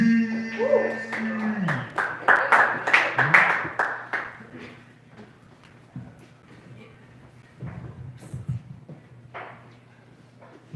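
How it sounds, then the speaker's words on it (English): Sparse, scattered clapping rises from a small crowd at an open mic comedy night, sharp individual claps under people talking, then it thins out to a few late claps. "I clap it up for Brian"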